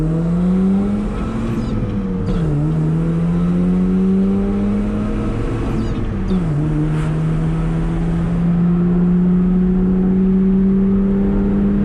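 A Mazda RX7 on new grippy tires revs up hard and loud, its engine note climbing, dipping at each gear shift near 2.5 and 6.5 seconds, then pulling steadily again, close and continuous with no talk.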